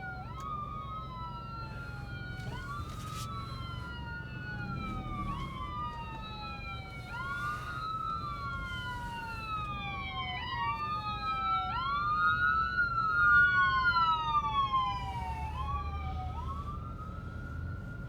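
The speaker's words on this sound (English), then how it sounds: "Ambulance inbound" An ambulance siren wails in repeated rising and falling sweeps, swelling louder as it passes nearby over a steady background hum, with no talking.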